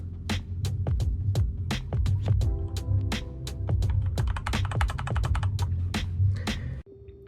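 Typing on an ADX Firefight MKO6W22 60% mechanical keyboard produces a fast, uneven stream of crisp clicks close to the mic over a low, steady hum. The clicking stops abruptly near the end.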